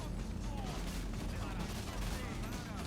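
Gunfire from GTA Online rattles in dense, rapid bursts at a low, fairly distant level, with possible faint voice activity mixed in.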